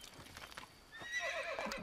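Horse whinnying with hoofbeats in the video game Assassin's Creed, a clear rising neigh in the second half after a few soft clopping steps, moderately loud with no talk.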